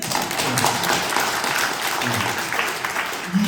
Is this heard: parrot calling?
no